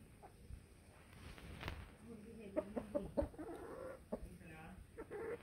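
Chickens cluck in short, scattered bursts against a noisy outdoor background, with a few louder calls near the middle and faint voices at times.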